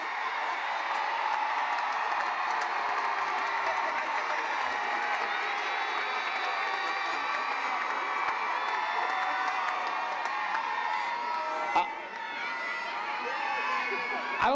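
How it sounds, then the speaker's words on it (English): A graduation commencement crowd at South Carolina State screams and cheers for the graduates, a steady distant roar of many voices with whoops rising throughout. "all the people screaming your names out there today"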